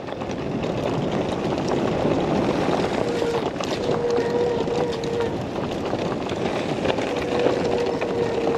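Steady, loud wind roar buffeting the microphone while riding a Bafang BBSHD electric mountain bike, a continuous broadband rush with a faint tonal hum running underneath.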